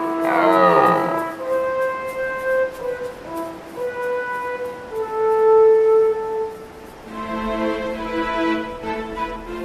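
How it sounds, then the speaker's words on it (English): Red deer stags roar their rutting calls on mountain slopes in autumn: long, loud, moaning bellows with rising and falling pitch, one after another, echoing and close by. "All day long, the rutting calls of stags echoes from the slopes."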